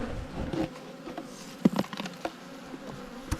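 Italian honey bees buzz around an opened hive in an Australian apiary, a faint, close swarm drone broken by scattered soft taps and knocks.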